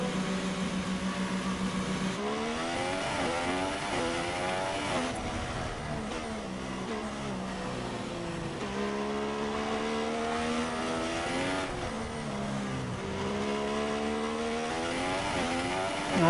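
A Formula 1 car in the F1 2016 racing game, at the Malaysia circuit, pulls away from the pits: a loud, high engine whine climbs in pitch again and again through gear changes, steady and close throughout.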